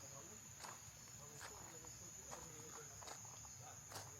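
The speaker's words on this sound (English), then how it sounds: "Crickets, it's peaceful." Crickets chirp steadily at night in the Dominican Republic, a continuous high shrill trill with faint rustles and background noise beneath, moderately distant and soft.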